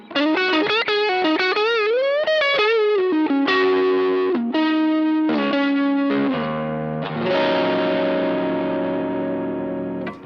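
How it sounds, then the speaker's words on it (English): Electric guitar driven into distortion through a Maxon overdrive pedal, feeding the clean channel of a Mothership amp on an amp-less pedalboard; a loud, continuous run of sustained, saturated notes and chords with bends and shifting pitches, playing alone. "Or another nuances of distortion just with the Maxon having the mothership in the clean channel."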